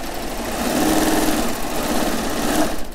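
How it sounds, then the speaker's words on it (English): A serger runs continuously around the edge of pajama fabric, a fast mechanical whirring hum with rapid stitching chatter that swells slightly midway, close and alone without talk. "Okay, so now I've just serged this."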